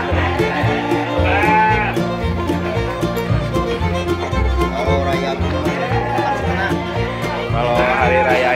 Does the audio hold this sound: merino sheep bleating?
yes